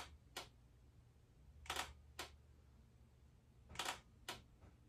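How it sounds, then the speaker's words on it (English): A Hasselblad lens leaf shutter fires five times in crisp, distinct clicks, arriving as two pairs plus a single. Each click is close and sharp above a faint low hum, and no voices are present. "every lens so far has had like a distinct shutter sound"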